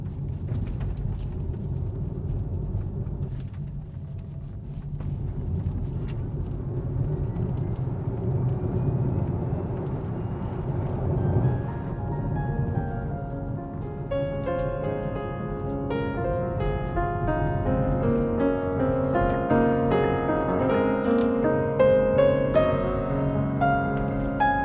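Inside a Hyundai Ioniq 5 electric car on the move, a steady low road rumble fills the cabin, joined partway through by quiet music with sustained tones. Nobody speaks.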